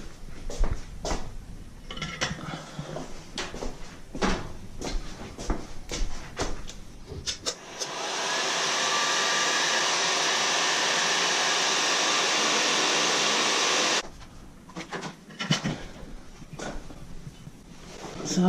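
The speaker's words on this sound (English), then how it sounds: "So I'm going to get the heat gun on that again" A heat gun drying a clay pot thrown by a beginner potter roars steadily and loudly for about six seconds, preceded and followed by scattered knocks and handling noises.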